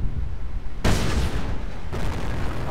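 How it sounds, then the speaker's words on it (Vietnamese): In the video game Company of Heroes, a 17-pounder anti-tank gun fires amid battle, a sharp loud boom at about one second followed by a rumbling tail and a second blast over steady combat noise. "pháo 17 bao của anh nó bắn chát lắm các bạn ạ"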